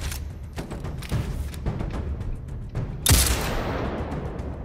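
Sniper rifle shots ring out in Destiny as several sharp, separated cracks, one louder boom near the end trailing into a rumbling tail, heard against quiet game ambience.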